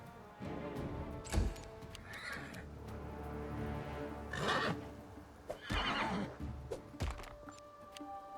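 Horse in the video game Pathfinder, neighing and whinnying in several distinct bursts, with clip-clopping hooves and thunks in between, fairly quiet overall and with no speech.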